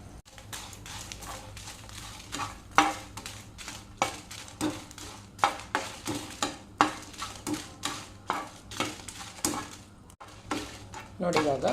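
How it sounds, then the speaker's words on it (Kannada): Ten dried red chillies frying in oil in a pan, with a soft sizzle under repeated scraping and clinking of a spoon against the pan, close and lively, without any talking. "ಇಲ್ಲೆಲ್ಲ ಹತ್ತು ಒಣಮೆಣಸಿದೆ ಅದನ್ನು ಇವಾಗ ನಾನು ಫ್ರೈ ಮಾಡ್ತೇನೆ"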